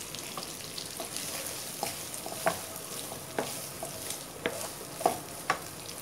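Bacon and dried beef sizzle in a pan under a low, steady frying hiss, with soft scattered clicks and scrapes from stirring and no talking.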